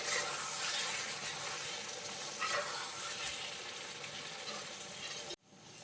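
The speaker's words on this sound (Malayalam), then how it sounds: "ഉടയാതെ നമ്മളൊന്ന് ഇളക്കിയിട്ട് കൊടുക്കണം." Chicken perattu being gently stirred in a pan, a soft steady sizzle with faint stirring movements, fairly quiet and continuous before a sudden drop near the end.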